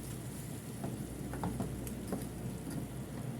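A spiced onion and tomato sauce with chili is stirred in a frying pan, giving a steady close sizzle broken by a few soft spoon scrapes, with no talking.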